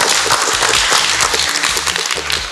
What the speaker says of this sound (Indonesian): Kita beri tepuk tangan buat Bapak Ibu karyawan.